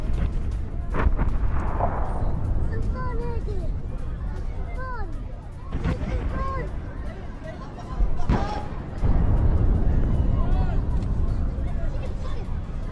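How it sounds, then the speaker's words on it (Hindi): Heavy booms and rumbling blasts from a fighter-jet bombardment in Gaza, captured in news footage, arrive in several loud bursts over a noisy background of crowd sounds and shouting voices. "इजराइल फाइटर जेट्स की भीषण बमबारी विद शॉट्स"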